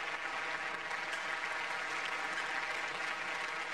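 Steady, dense applause fills an indoor arena after the Men's British Open squash final, holding at an even, loud level throughout with no talk over it.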